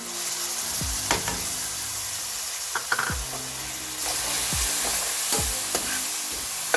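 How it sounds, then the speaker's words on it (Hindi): Spices fry for a lamb curry in a pan with a loud, steady sizzle, broken by several spatula scrapes and knocks against the pan, close by and without speech. "हम इसको बस थोड़ी देर फ्राई करेंगे, ज़्यादा भी फ्राई नहीं करेंगे क्योंकि मसाले जल जाएंगे।"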